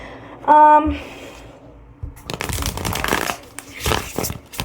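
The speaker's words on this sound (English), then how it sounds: "Let's do a little shuffle." A short tonal chime, then tarot cards being shuffled, riffling and flicking in quick bursts, close up.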